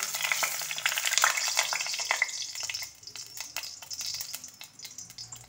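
Banana leaf paturi with beans fries in a little oil in a hot kadai, a busy crackling sizzle with rapid popping and occasional scraping, close and steady throughout.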